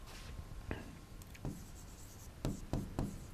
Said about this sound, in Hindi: तो हम इस बात को भी लिखेंगे अभी